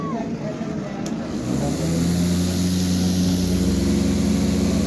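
A low-cost homemade farm cutter machine, built for about 1500 rupees and shown at a district science exhibition, starts up and settles into a steady motor hum that holds loud and continuous, with a person speaking briefly over it.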